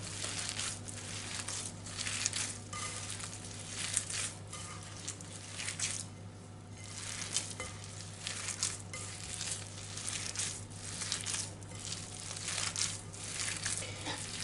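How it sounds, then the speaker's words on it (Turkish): Hands kneading a chicken köfte mixture with breadcrumbs and flour, soft repeated squishing and crinkling sounds in an uneven rhythm, close but quiet, over a low steady hum with no talking. "Güzelce yoğuruyorum."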